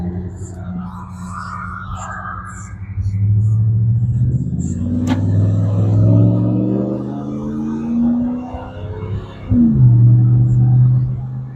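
A 2002 Dodge Ram pickup with a new exhaust rumbles steadily with a rising rev around the midpoint, the low throaty tone climbing and settling as it drives along.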